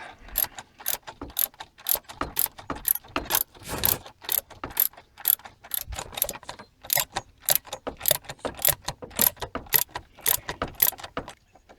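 A left-hand thread bolt is slowly undone with a ratcheting tool, giving a long run of close, loud, evenly spaced ratchet clicks with brief pauses and no speech.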